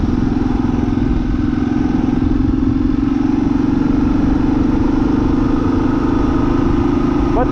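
A 2023 Kawasaki KLR 650 motorcycle cruising on the road, its engine droning steadily and loudly alongside constant wind and road rumble, with no voices heard.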